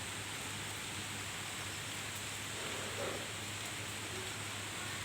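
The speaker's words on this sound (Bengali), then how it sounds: "দেখছেন বাইরে অনেক ঝড় হচ্ছে" Steady outdoor rain during a storm, a continuous broadband hiss of falling water with a low hum beneath, fairly even throughout with no voices.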